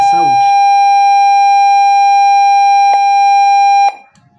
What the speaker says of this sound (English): Then the LED will light and the buzzer will sound.